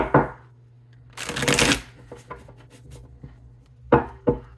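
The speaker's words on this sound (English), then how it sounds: "I've been having a hard time getting these decks shuffled." Tarot cards are shuffled close up: a soft riffle, a longer rapid flutter of cards, scattered light taps, then two quick sharp riffles.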